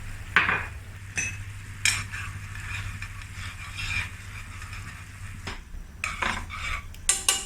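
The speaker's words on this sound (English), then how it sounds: "Cook down the sauce to become a thick gravy." Honey garlic sauce with chili flakes reducing in a pan for shrimp, heard as intermittent spoon or spatula scrapes and clinks against the pan over a soft, steady sizzle and a low background hum.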